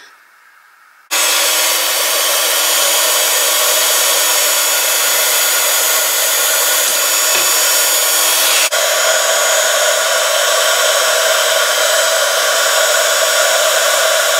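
A heat tool blows steadily on textured embossing paste spread on a craft card, a loud continuous whooshing hiss that switches on abruptly and runs without pause, with no voices.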